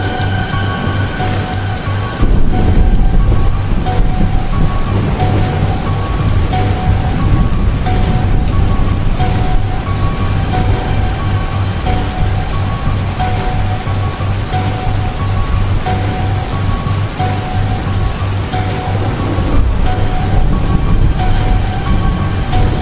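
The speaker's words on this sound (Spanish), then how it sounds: "está lloviendo fuertísimo y aquí no tenemos ni un solo paraguas" Heavy rain pours down in a steady, loud hiss, with rumbling thunder rolling underneath throughout the storm.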